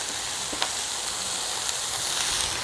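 Green and red peppers with onions sizzle in oil on a hot grill, giving a steady, even crackling hiss with a few faint clicks and no voices.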